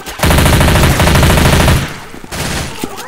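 Bursts of automatic gunfire in Left 4 Dead 2, loud and close, a rapid rattling stream of shots that breaks briefly, resumes, then gives way to a few scattered single shots.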